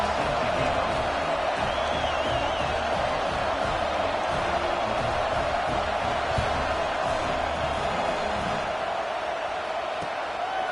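A college football stadium crowd roars continuously at the Auburn versus Michigan game, a dense, distant wash of cheering and noise that never lets up across the stretch.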